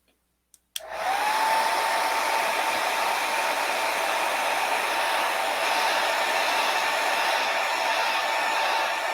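A hair dryer drying acrylic paint on canvas switches on after a couple of faint clicks, then blows with a steady, close, even roar until the end.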